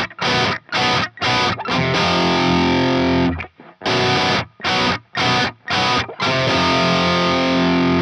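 Distorted electric guitar chords from a song, strummed in short rhythmic bursts with fretting-hand muting cutting each chord off into near silence, followed by longer sustained ringing chords, loud and up close.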